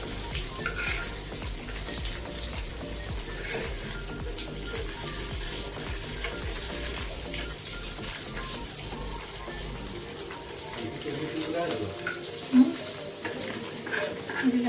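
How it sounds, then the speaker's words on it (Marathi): Bangda mackerel shallow-frying in oil over a low gas flame, a steady low crackle and sizzle running throughout with scattered clicks and scrapes from the pan, fairly quiet and without talk. "दुसरी साईड पण प्रॉपर स्लो गॅसवरच आपण फ्राय करून घेऊया."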